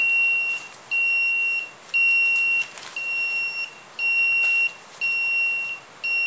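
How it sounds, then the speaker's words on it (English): A 555 timer buzzer circuit sounds a shrill electronic tone in regular on-off pulses, about six long beeps spaced roughly a second apart, loud and alone. "Now we have a new circuit here, and we call this 555 buzzer circuit"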